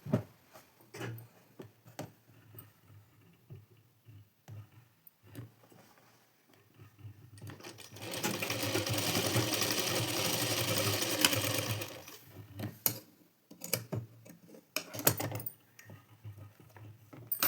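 A sewing machine runs in one sustained burst of rapid, even stitching on a blouse, sandwiched between quieter stretches of small handling clicks and taps.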